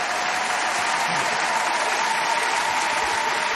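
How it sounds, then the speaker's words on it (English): Studio audience clapping and cheering in a steady, dense wash of applause, loud and close, continuous throughout with no pauses. "We got the crowd tonight, buddy."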